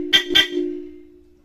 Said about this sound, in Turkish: Aracında mevcut korna vardı.